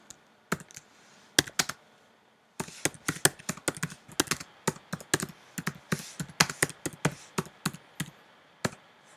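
Computer keyboard typing while a comment is written, crisp close key taps in irregular quick bursts with short pauses, in an otherwise quiet room.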